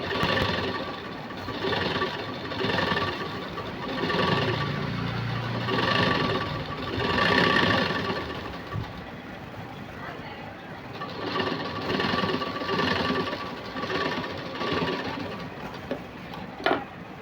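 Sewing machine running a straight seam on cloth, its motor whirring in long continuous stretches with brief pauses, a voice speaking over parts of it.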